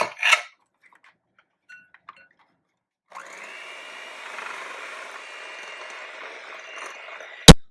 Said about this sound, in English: I'm going to cream this mixture together now